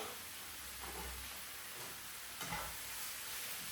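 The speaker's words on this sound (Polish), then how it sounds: "Tu już nam się to ładnie, bardzo ładnie podsmaża." Bacon sizzling in a frying pan for a keto lumberjack omelette, a soft, steady hiss with faint stirring scrapes, quiet and without talk.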